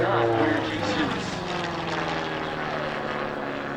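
Long EZ homebuilt propeller aircraft droning through a barrel roll at an air show, a loud sustained engine roar with shifting pitch as it maneuvers, heard alongside an announcer's amplified commentary.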